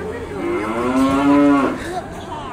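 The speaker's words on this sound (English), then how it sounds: "That's a huge, heifer." A heifer at a children's farmstead lets out one long, loud, close moo that rises and holds before tailing off, with faint background noise and no talking.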